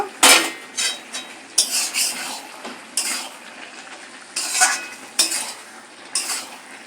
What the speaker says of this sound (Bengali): এইবারে এর মধ্যে আমি বড়িগুলো সব দিয়ে দেবো